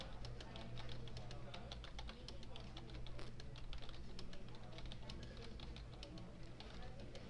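Fast, steady clatter of keystrokes on a computer keyboard while editing a file in a Linux editor, quiet and close, continuing without a break for the whole span.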